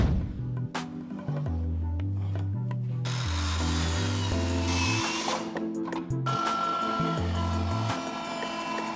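A power saw cutting walnut lumber for a simple step stool, with a loud, steady machine drone and rubbing wood-cutting noise close up, its pitch stepping up and down as the load shifts.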